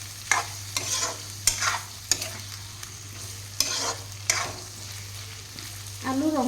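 Food stirred in a pan for Assamese-style chicken curry, with sharp, regular scraping strokes every half second or so over a low steady sizzle and a constant hum beneath.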